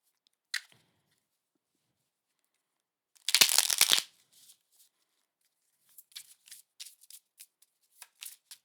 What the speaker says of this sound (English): Let me just shuffle the deck again.